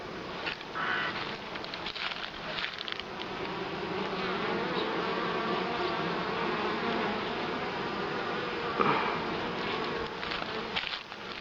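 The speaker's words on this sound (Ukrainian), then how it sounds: "Це в роботі мій рій." A honeybee swarm working at a hive in an apiary makes a dense, steady buzzing drone that continues without a break, close and full, with individual bees passing nearer now and then.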